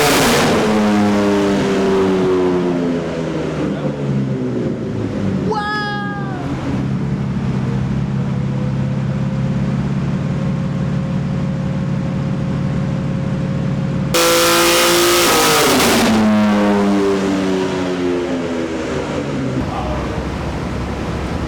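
A BMW S58 engine with a CSF charge air cooler manifold revs hard on a dyno, climbing loudly in pitch, dropping back to idle, then surging again in a second loud pull.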